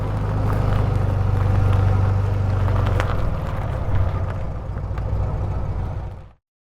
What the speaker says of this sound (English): Then we'll do just the vintage car.